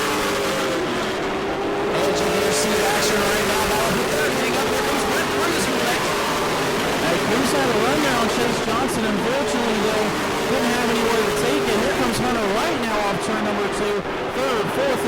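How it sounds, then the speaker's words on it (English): Pro Late Model race cars roar continuously around New Smyrna Speedway, several engines overlapping and whining as they pass, with crowd and commentary noise mixed underneath. "Cars all over the speedway as they go around."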